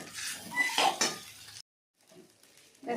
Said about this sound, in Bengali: ভালো করে আস্তে আস্তে কষে নেবো পাস্তাটাকে